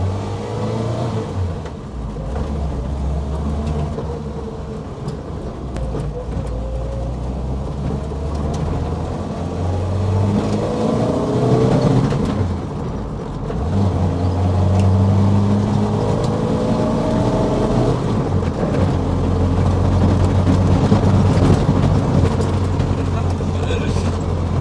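A stripped-out Ford Mark II Escort with a 2-litre Pinto engine drives along with a steady, loud engine drone and cabin rumble that swells partway through, while the occupants talk over it.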